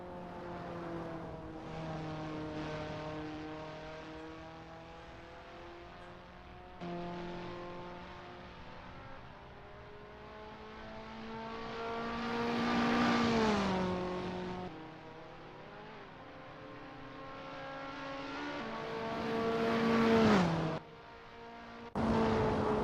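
A KTM X-Bow R race car on a practice out lap at Monza in Assetto Corsa, its engine whining up through the gears with pitch climbs, sharp drops at shifts and a swell as it nears.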